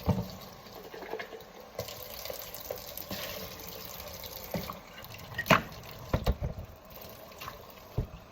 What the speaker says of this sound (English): you're going to want to dump it out and rinse it out really, really well.